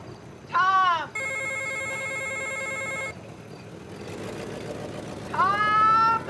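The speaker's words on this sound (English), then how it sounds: "Answer the phone, Noelle." A film scene holds a telephone bell ringing, one sustained metallic ring lasting about two seconds between two brief vocal bursts, heard fairly close and loud over low background noise.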